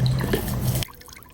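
Water poured into a container over black beans being soaked for fabric dye, a short close liquid splash and trickle that stops abruptly partway through, leaving near quiet.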